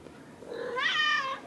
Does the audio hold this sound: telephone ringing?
no